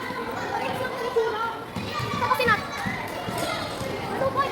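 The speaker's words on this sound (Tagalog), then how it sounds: "Hindi ito mga bata. Naglalaro ng basketball." Children playing basketball outdoors, with lively kids' voices and chatter over scattered ball bounces, busy and fairly close.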